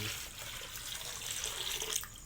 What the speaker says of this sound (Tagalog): So, lalagyan na natin ng mga tubig.